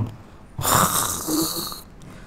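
A person imitates a snore with his voice: one drawn-out, rasping, snore-like breath in the middle, loud and close against an otherwise quiet room.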